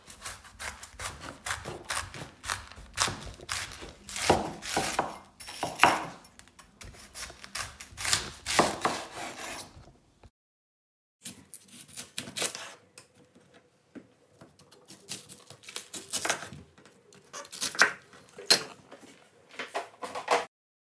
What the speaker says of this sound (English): I'm going to start with slicing the cabbage very thinly.